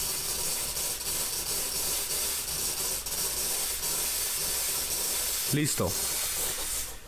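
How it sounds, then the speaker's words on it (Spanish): The steam wand of a home coffee machine blows pure steam in a steady, loud broadband hiss that runs for several seconds, with a brief spoken word near the end. "Y al principio sale agua, pero de repente empieza a salir puro vapor."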